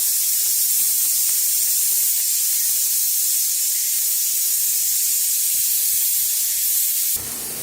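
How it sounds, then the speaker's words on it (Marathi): A steady, loud hiss of steam escaping from a pressure cooker runs continuously, then cuts off abruptly just before the end. "त्या कुकरचे आपली शिट्टी लागले बघा"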